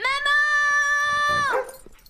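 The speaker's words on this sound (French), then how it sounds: "Il entend alors un bruit étrange. Il se retourne et voilà le chien." A dog lets out one drawn-out, steady whine or howl lasting over a second before it breaks off and fades, fairly close and alone in a quiet room at night.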